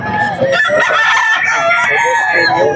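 A Kelso gamefowl rooster crows loudly and up close at a pet market, one drawn-out cock-a-doodle-doo with clucks mixed in.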